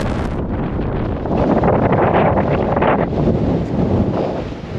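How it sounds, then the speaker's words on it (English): Strong wind buffets the microphone in heavy, roaring gusts on a dusty trail, loud and continuous throughout, with no voices. "This wind is something else."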